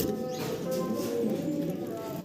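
Fancy pigeons coo steadily and close by, a low continuous murmur of several birds filling the whole stretch, with a voice talking faintly underneath.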